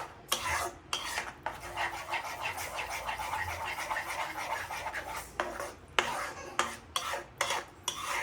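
A mohanthal sweet mixture is stirred by hand off the heat, giving repeated scraping and rasping strokes of a utensil against a pot, with brief pauses between bursts.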